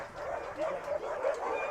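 Rescued northern-breed sled dogs at a rescue sanctuary give several yips and barks, moderately close, over light background noise.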